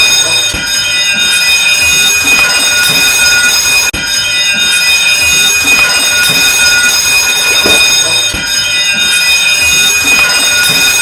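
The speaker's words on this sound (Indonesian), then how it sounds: "Alarm ini berbunyi terus-menerus atau kontinu seperti berikut ini." A ship's continuous fire alarm blares loud and harsh without pause, a steady buzzing tone holding for the whole stretch, close and unrelenting.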